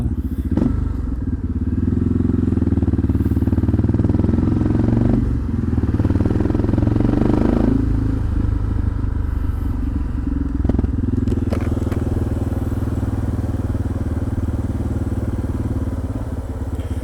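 A Suzuki motorcycle engine runs steadily while riding, a loud, close, continuous low drone with occasional clatter and thumps, with no talk over it.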